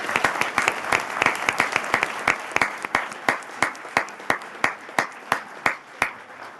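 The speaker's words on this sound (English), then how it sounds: "So I think we should give them a round of applause." Audience applause for parks and recreation employees at a Halloween event in City Hall, starting as a full crowd and thinning to a few slow, distinct claps near the end.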